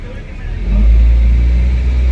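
A car engine revs up hard as the gas pedal is pressed during reverse-driving practice, a loud low rumble swelling after a brief idle and holding steady, with a voice speaking over it.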